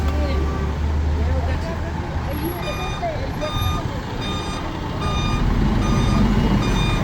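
A bus backs up on a road near the Ascension site toward Bethphage during Holy Week, its reversing alarm beeping in a steady repeated rhythm over traffic rumble and crowd chatter.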